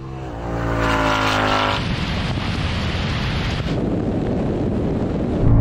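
Electric BMW 3.0 CSL and a modified Mustang launch side by side in a drag race, a loud engine and drivetrain roar swelling over the first two seconds, then heavy wind buffeting and road rush for the rest.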